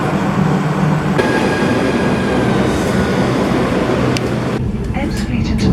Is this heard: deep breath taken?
no